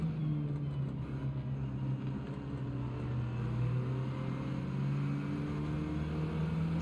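A 1965 Mini Cooper S racing engine in Gran Turismo 7, a steady droning buzz holding a fairly even pitch with slight rises and dips as the car runs through a corner among other racers.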